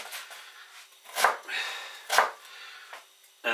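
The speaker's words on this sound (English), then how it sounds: "So I'll get the cabbage out of the way first. And I just want to cut it into strips" A knife cuts a cabbage into strips on a board, with a few separate crunchy chops spaced about a second apart and quieter rustling between them.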